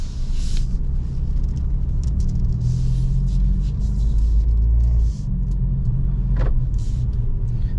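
Cabin rumble from a Mercedes-AMG CLA45S 4Matic+ on the road: a steady, loud low engine and road drone that stays constant throughout, with a brief dip near the end.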